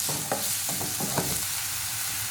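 Chopped onion sizzles in a hot pan with salt, a steady frying hiss broken by a few soft clicks of stirring, close and with no voices.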